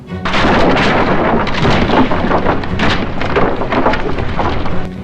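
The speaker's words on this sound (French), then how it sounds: "Elle arriva à la tour et une explosion se produisit." A huge, roaring explosion blast, loud and sustained, with dense rumbling and crackling debris noise rolling on for several seconds.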